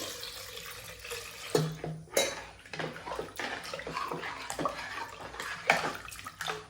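Water splashes into a pot for a quick, mild rasam made with Bedgi chilli, in uneven gushing bursts mixed with metallic clanks of vessels.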